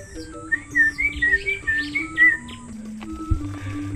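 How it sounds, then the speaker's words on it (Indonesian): Wild Bali mynas (Leucopsar rothschildi) give a run of bright, clear chirping whistles in quick succession over a low background hum, fairly close and moderately loud. "Panji masih dapat melihat burung-burung jalak bali yang masih terbang bebas di sini."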